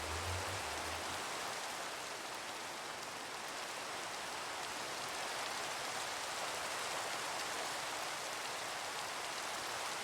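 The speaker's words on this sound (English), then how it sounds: "you can see this has got rain right here." Steady rain falls in Minecraft, an even, continuous hiss that runs unchanged from start to finish with no voices over it.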